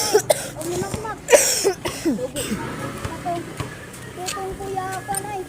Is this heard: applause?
no